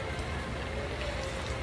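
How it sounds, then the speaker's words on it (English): Steady rain hisses continuously, a dense wash of drops pattering on surfaces, with no voices. "And it's raining horrible."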